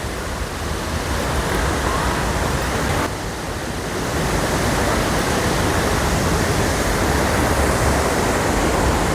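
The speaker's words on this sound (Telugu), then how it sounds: "వాటర్ ఫాల్ దగ్గరికి వెళ్దాం" A waterfall near Gangtok, Sikkim, roars in a dense, continuous rush of falling water, loud and close, with no voices.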